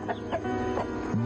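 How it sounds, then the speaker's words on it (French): A big rooster clucks close by in a few short, throaty bursts, with a brief low cluck at the end. "Je vais attraper ce gros coq-là."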